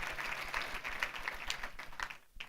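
A congregation applauds steadily for a couple of seconds at a church service, a dense wash of clapping at moderate loudness.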